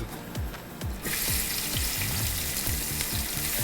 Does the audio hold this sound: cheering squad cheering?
no